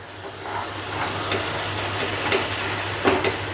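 Milk thickening for kalakand sweet, stirred continuously in a pan, giving a steady close hiss and sizzle with faint scraping strokes of the spoon, no voices.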